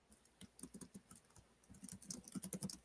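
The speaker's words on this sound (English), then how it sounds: "Typing a whole dissertation over there." Fast typing on a computer keyboard, quiet but close, a patter of key clicks in uneven bursts that grow denser toward the end, with no talking.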